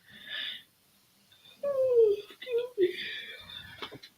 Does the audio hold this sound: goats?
no